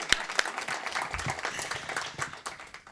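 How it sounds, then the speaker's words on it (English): Crowd applauding at a school education event, a dense burst of clapping with a couple of sharp louder claps near the start, sustained steadily at moderate level throughout. "Let's give him another round of applause, especially the students."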